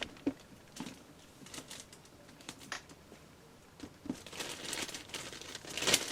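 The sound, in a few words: action figure taken out of plastic packaging bag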